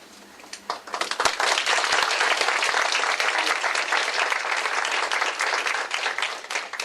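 Audience clapping at a community event in Scarborough, Toronto, rising from a few claps into sustained loud, dense applause that carries on steadily and begins to thin near the end.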